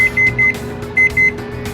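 A kitchen timer gives two pairs of short, high electronic beeps, the second pair after a brief pause, over faint background hum.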